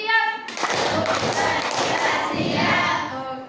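Schoolchildren in a classroom perform the tepuk siap clapping chant, a burst of dense, slightly unsynchronized claps mixed with children's voices answering together, close and loud throughout.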